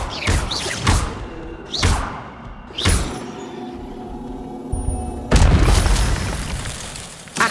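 A fire spell is cast in the Hogwarts Legacy video game: a run of loud, booming magical bursts and whooshes, several in quick succession followed by a sustained roaring blast.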